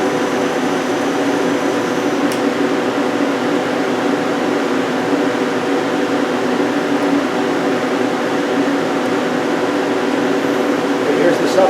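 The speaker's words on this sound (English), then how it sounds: "I'm going to run the spindles independently for you." A 2008 Hyundai Kia SKT-250LMS CNC lathe with milling and sub spindle runs in a shop, giving a steady, loud mechanical hum and whine that stays constant throughout.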